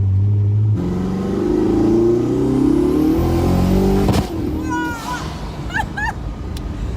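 A very fast car revs hard with a deep, rising engine drone, then a sharp backfire pop cuts through, followed by turbo whistles and chirps as the engine settles, all loud and close.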